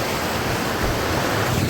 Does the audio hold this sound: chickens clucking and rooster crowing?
no